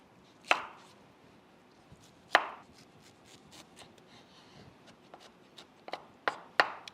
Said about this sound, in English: Can just roughly chop.